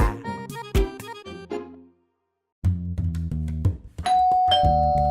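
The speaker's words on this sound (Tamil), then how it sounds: "ஏன்டா பெல் அடிக்கிற" A doorbell chimes repeatedly in bright melodic ding-dong tones, pausing briefly before ringing again, loud and close with a sustained tone at the end.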